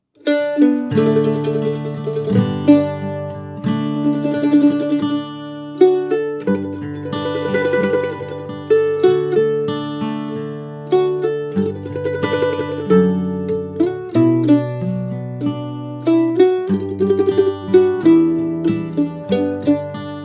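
Plucked mandolin picks out the Scottish folk song Wild Mountain Thyme alone, bright tremolo-like notes over strummed chords, steady and close.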